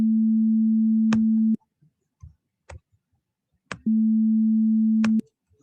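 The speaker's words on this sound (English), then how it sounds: "And it's also a sine wave." Steady pure sine-wave tone at a low pitch plays in two sustained bursts of over a second each, separated by silence with faint clicks and ticks between them.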